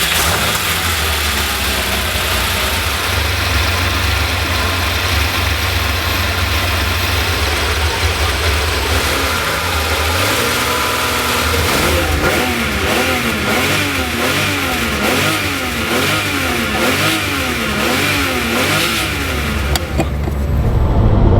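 Ferrari 512 BB, a 1984 late-series flat-twelve of 5 litres with electronic fuel injection, idles with a loud, steady rumble, then revs repeatedly in rising and falling blips, close and alone.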